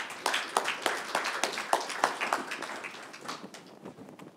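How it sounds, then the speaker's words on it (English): An audience at a talk on Canadian diversity and immigration breaks into a round of applause, with sharp, close hand claps in a quick irregular patter that slowly thins and softens toward the end. "Mohamad, a round of applause, please."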